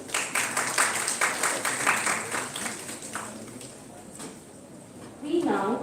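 Audience applause at a live engineering college event in Durgapur, a dense patter of claps that fades after a few seconds as a voice begins talking near the end.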